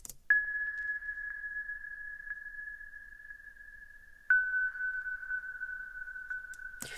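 A sustained synth tone holds a steady pitch, then restarts with a fresh attack midway, its tail smeared by echoing delay and reverb.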